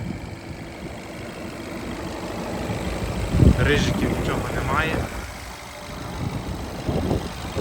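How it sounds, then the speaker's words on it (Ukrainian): A Skoda Octavia 1.6 diesel engine idles steadily at a low, even rumble while someone speaks over it. "мотор працює чітко, рівненько, без посторонніх звуків."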